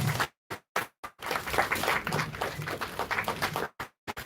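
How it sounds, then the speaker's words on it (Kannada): An audience claps at the poster launch for the film 1979 The Untold Story. A few scattered claps are followed by a burst of dense, fairly close applause lasting a couple of seconds, then isolated claps again. "ಚಪ್ಪಾಳೆ ಬರಬೇಕು"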